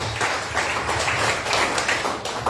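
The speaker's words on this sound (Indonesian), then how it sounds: "Beri tepuk tangan buat Tuhan Yesus" Church congregation clapping at a Sunday service, a sustained run of rhythmic, fairly close hand claps with a low hum underneath, steady and unbroken throughout.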